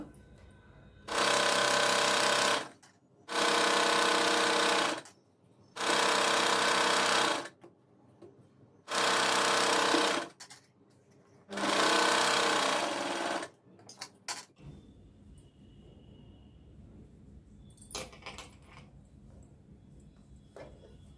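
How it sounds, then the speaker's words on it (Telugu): Sewing machine stitching cotton cloth for a six-panel umbrella dress, running in five loud, steady bursts of about two seconds each with short pauses between, then falling quiet to faint handling noise. "ఇక్కడ స్టిచ్ వేసేయండి ఒక పాయింట్ దూరంలో"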